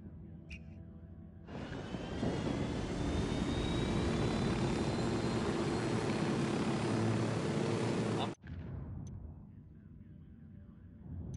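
A helicopter flies in Ghost Recon Wildlands, its loud steady rotor and engine roar starting abruptly and holding constant for several seconds before cutting off sharply, leaving quieter ambient engine noise.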